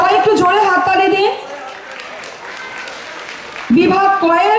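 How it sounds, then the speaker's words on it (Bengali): Audience applause at an award ceremony, a steady wash of clapping in the middle stretch, framed by a presenter speaking before and after over a public address. "সবাই একটু জোরে হাততালি দিন"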